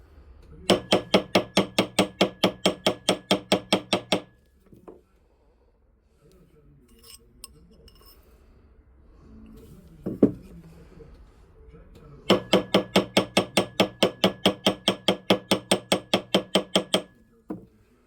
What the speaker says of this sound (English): When you're tapping with the hammer, you're just tapping.